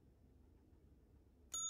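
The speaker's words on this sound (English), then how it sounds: "No hotel front desk is complete without a bell." Hotel front desk bell in a video game, struck once near the end as a single bright, ringing ding with a lingering tone after a stretch of quiet low background hum.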